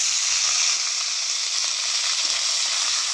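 Onion paste sizzling in hot oil with cumin, dried red chillies and green chillies, a loud, close, steady hiss with no breaks.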